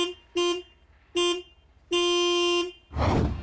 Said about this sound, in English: this car has such a puny sounding comical horn